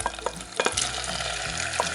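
Salt cod pieces going into oil that is not yet fully hot, a soft continuous frying hiss with a few sharp knocks and clatters of the pan early on.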